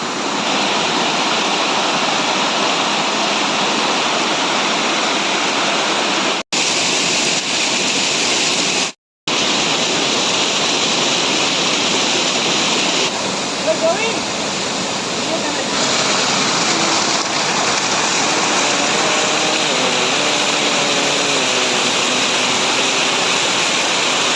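Kurushnar waterfall roaring continuously and loudly close by, a dense broadband rush of falling water with a couple of brief dropouts.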